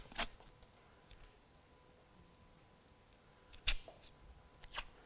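A strip of elastic bandage tape snipped with scissors during leg taping, heard as a few sharp, brief clicks spaced apart against a quiet room.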